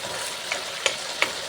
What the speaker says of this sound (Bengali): এই দেখো বন্ধুরা, চিংড়ি মাছ ভাজা হচ্ছে